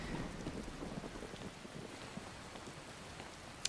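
Steady rain falls in the Skyrim video game at High Hrothgar, with a faint distant thunder rumble under it, fairly quiet and continuous, ending in a brief sharp click.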